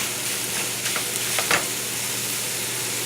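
Sausage with garlic and oregano sautéing in a pan for stuffed peppers, a steady close sizzle with a few brief stirring scrapes, no talk.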